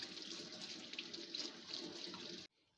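Running kitchen tap water splashing steadily as food is rinsed under it, a close continuous hiss and patter that cuts off abruptly near the end.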